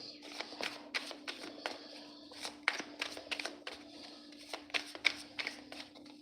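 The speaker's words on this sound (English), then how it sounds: "give it a faith shuffle so y'all don't think I lined up these cards" A tarot card deck is shuffled by hand in quick riffling bursts, crisp close snaps and flutters repeating in uneven clusters over a faint steady hum.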